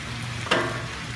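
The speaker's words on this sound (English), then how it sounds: "you should be able to hear that sizzle and help the steam up" White wine hitting a hot pan with chicken and pasta, a constant close sizzle that flares briefly louder midway as the liquid steams, then settles back to a steady frying hiss.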